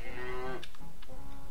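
Cows moo in the adventure video game The Whispered World, a drawn-out lowing call followed by a few short clicking sounds, close and fairly loud.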